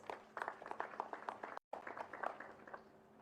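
A crowd claps steadily in applause, dense overlapping hand claps with a brief cut of silence midway before the clapping resumes.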